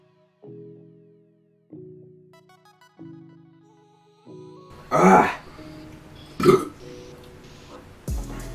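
Deep, drawn-out burps after chugging two liters of S.Pellegrino sparkling mineral water, starting as low, tonal, croaking belches in a stepped series, then rougher, louder bursts toward the end, all near and without talk.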